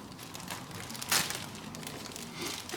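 Plastic packaging crinkles and crackles as the elevators of a Durafly Brewster F2A Buffalo model plane are cut free, with one sharper rustling burst midway among softer handling noises.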